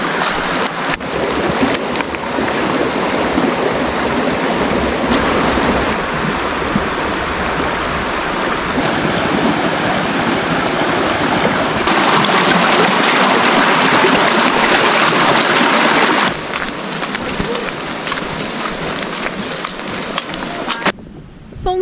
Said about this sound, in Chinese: 哇塞，这边有条小溪水啊